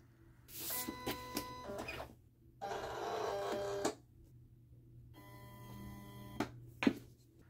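Silhouette Cameo 4 cutting machines run at close range, quiet but clear: a few short motorized whirring and clicking bursts, a longer sustained run, then a steady buzzing pass ending in brief clicks over a low hum.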